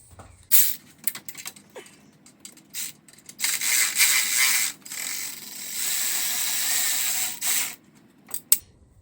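A ratchet fitted with a Torx socket backs out an exhaust manifold bolt on a 2JZ engine. Bursts of fast, loud, close pawl clicking are broken by short pauses, and the clip ends with a couple of sharp metal clacks.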